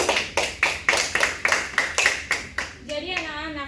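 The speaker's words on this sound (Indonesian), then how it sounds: "Tepuk tangan dulu buat teman-temannya." A class of eleventh-grade students claps for classmates during a lesson, giving about eight sharp, evenly spaced unison claps in a steady rhythm, close and clear, followed by a brief voice at the end.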